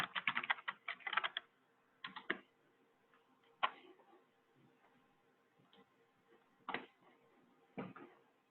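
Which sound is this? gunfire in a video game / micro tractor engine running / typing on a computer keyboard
typing on a computer keyboard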